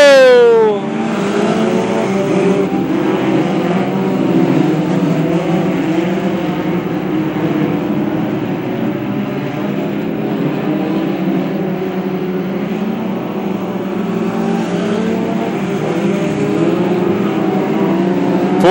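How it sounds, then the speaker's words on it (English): Four-cylinder front-wheel drive Hornet-class race cars roar along the front stretch at Macon Speedway, a loud continuous pack of engines with an opening pass sweeping by close, sustained throughout. "Four-cylinder front-wheel drive cars going through the front stretch onto the back straightaway now."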